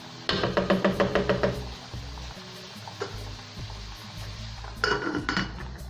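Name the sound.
meat frying with onion and garlic in a pan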